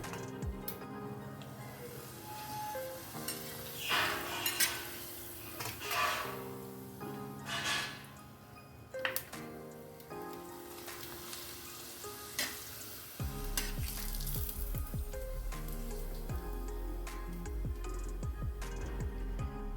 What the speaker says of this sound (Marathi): आपल्याकडे तापला तेल आपण पापड तळून घेऊया